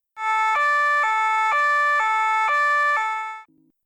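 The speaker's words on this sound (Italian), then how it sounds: "Una macchina della polizia." A toy police car siren from a children's electronic learning toy, a loud two-tone hi-lo electronic wail alternating evenly for about three seconds, then a short low buzz at the end.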